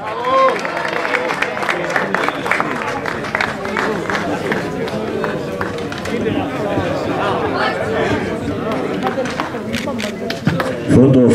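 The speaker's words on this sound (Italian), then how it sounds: "Applauso ai ragazzi, bravi, applauso ai ragazzi" Applause for young riders at a regional enduro championship podium in Figline Vegliaturo, a steady crowd clatter of clapping with chatter and shouts mixed throughout, swelling briefly near the end.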